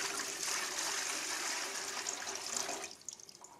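Cold tap water gushes steadily into the collection tank of a DR75C steam cleaner and vacuum, a close, hollow rushing stream that tapers to a few drips and splashes as it stops.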